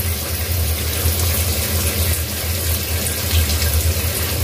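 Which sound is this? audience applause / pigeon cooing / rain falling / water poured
water poured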